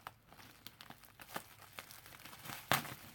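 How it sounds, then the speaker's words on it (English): Plastic bubble wrap from a mail package is handled and crinkled in a series of soft, scattered rustles and crackles, ending in one sharper, louder crackle near the end, close by with no talking. "More bubble wrap"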